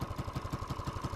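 A custom mini chopper motorcycle engine idles close by, a quick steady low thumping pulse with a mechanical clatter on top, alone and without voices.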